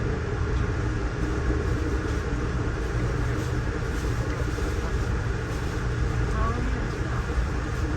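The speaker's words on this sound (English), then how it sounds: "Comes an eastbound Norfolk Southern freight." A steady, continuous rumble of an eastbound Norfolk Southern freight train rolling past at Horseshoe Curve near Altoona, dense low-frequency noise holding constant throughout without breaks.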